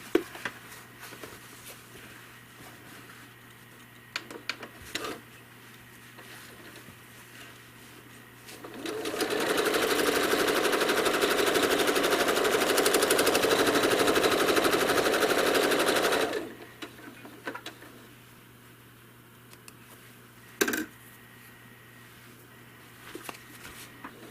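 A home sewing machine quilts leaf designs, running in one loud, steady, rapid burst of stitching for about seven seconds in the middle, with quiet handling taps before and after.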